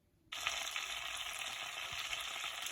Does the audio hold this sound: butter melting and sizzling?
yes